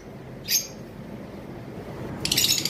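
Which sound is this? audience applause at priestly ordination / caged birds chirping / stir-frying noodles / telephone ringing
caged birds chirping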